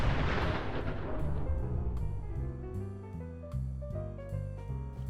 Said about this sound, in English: press your hotkey and watch as the ground erupts into a mushroom cloud engulfing your enemies